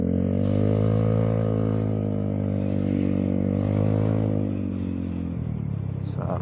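A Vespa scooter's small motor engine hums steadily and close, rising slightly in pitch before easing off as it cruises around a block.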